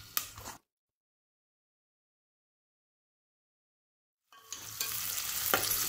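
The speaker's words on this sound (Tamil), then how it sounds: "வெங்காயத்தை நல்லா வதக்கி விட்டுக்கலாம்." Onions with bay leaf, cinnamon, cardamom and cloves sautéing in a pan for chicken dum biryani, a close, bright sizzle with stirring that breaks off into silence and then returns louder.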